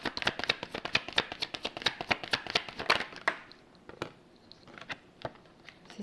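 Tarot cards shuffled and handled in a rapid run of crisp flicks and slaps for about three seconds, then a few softer, scattered card taps close by in a quiet room.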